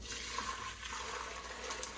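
Strained chicken broth pours into a pot in a continuous soft liquid rush with a light splashing, filling sound, heard close and fairly quiet for a couple of seconds with no talking.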